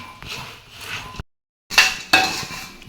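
Puffed rice is stirred in a pan while being tempered, giving dry rustling scrapes and metallic clinks from the spoon. Two short bursts are split by a brief silence, and no one speaks.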